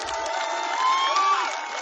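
A mushaira audience cheers and calls out together in a sustained, fairly loud crowd roar that swells slightly in the middle before holding steady.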